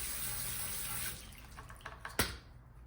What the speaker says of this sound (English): rinse down the wheel.